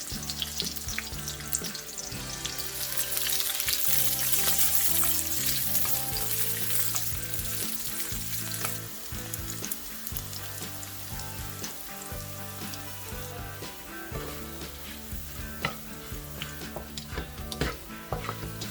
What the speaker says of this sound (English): in a medium heat, we fry our garlic.